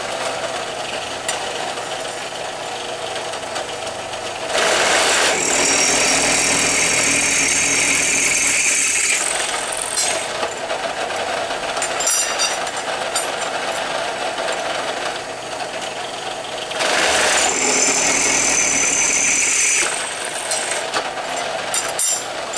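A slowed machine spindle drills a finish hole in a metal piece for forged crucible tongs. A steady mechanical hum runs throughout, broken by two loud, harsh, grinding bursts of cutting, the first about four seconds long and the second about three.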